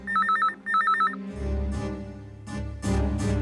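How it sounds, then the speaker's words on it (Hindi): A fax machine rings with two short trilling electronic bursts, then clattering, thuddy room noises follow, with no talking. "फैक्स आ रहा है सर"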